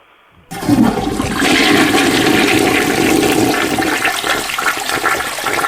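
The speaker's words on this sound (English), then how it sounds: "Oh, I flushed it." A toilet flushes loudly and close, a sudden rushing surge of water that roars steadily for several seconds before easing slightly, with no talking.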